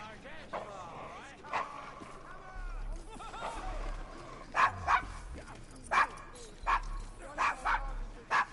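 Dog barking in the Assassin's Creed Syndicate video game, set in Victorian London's Devil's Acre: a run of short, sharp barks and yips that grow louder toward the end, with voices talking over the first half.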